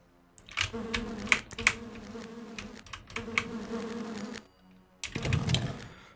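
Giant spiders in the DOS video game Lands of Lore give off a low, droning buzz in several bursts. Clicks and keyboard taps break in between the bursts, and the sound is fairly quiet with no talking.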